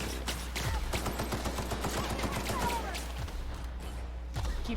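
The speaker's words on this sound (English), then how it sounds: "Keep grenade launching them, please." Chaotic combat in the video game The Outer Worlds, with dense overlapping gunfire and grenade launcher blasts in a steady barrage at close range, and a voice talking intermittently over it.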